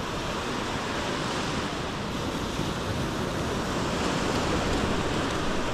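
Steady, broad roar of surf washing onto a shore, continuous and fairly loud with a windy hiss, no voices.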